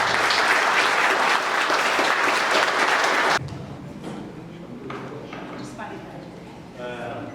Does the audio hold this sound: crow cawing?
no